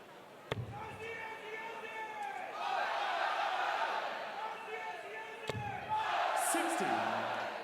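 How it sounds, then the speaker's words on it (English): Darts crowd at the 2022 Grand Slam of Darts chanting Aussie, Aussie, Aussie for Simon Whitlock, a loud rhythmic massed chant swelling in the hall and broken by two sharp thuds. "you can hear the crowds getting behind Simon now as well with the Aussie, Aussie, Aussie chant"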